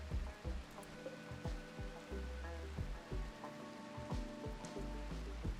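Steady rain falls in a colony-building video game, a soft continuous patter with scattered droplet ticks over a quiet, low background of music tones.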